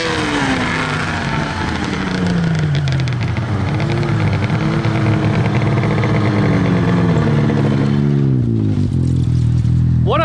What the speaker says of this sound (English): That has got to be the craziest sounding sled I've ever heard.